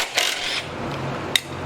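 Strut mount nuts being loosened on the front suspension of a 2005 V6 Mustang, with two short mechanical bursts of ratcheting and metallic clicks, one longer and one a sharp single clack, close by with no talk.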